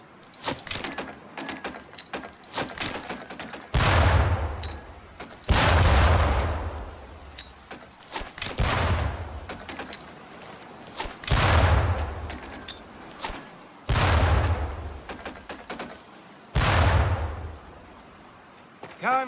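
Training grenades go off one after another in Medal of Honor: Pacific Assault, each a heavy booming blast with a decaying tail, about six spaced a few seconds apart, alone without talk.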